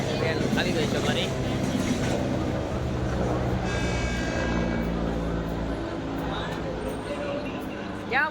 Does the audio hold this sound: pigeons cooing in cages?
no